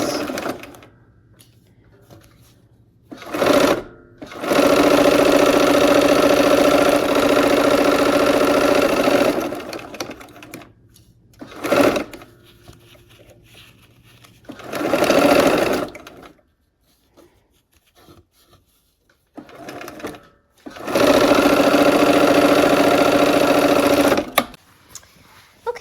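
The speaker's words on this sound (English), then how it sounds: "Okay, we're gonna sew these seams." A sewing machine stitches quilt seams in several bursts of fast, steady whirring and needle clatter, separated by quiet pauses and brief short runs.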